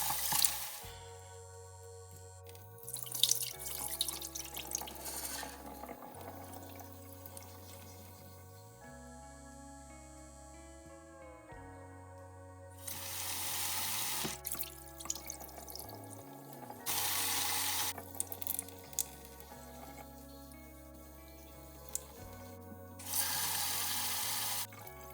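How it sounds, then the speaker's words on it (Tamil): Urad dal, fenugreek seeds and black chickpeas washed in water in a kitchen: running tap bursts and sloshing, swishing water come and go under steady background music. "ஒரு கப் உளுந்தும் ஒரு தேக்கரண்டி வெந்தயமும் ஒரு கப் கருப்பு கொண்டக்கடலையும் போட்டு நல்லா கழுவி"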